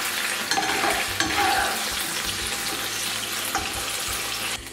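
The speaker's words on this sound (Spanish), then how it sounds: "la carne y la rehogo un poco" Meat sautéing in oil in a pan, a dense steady sizzle with scraping stirs and a few clinks, close and fairly loud throughout, no talking.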